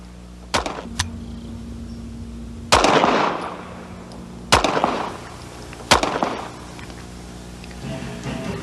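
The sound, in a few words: HK P7 M13 9mm pistol firing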